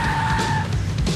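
A car in the video game Max Payne 3 peels away with its tires screeching, a short loud skid over engine noise.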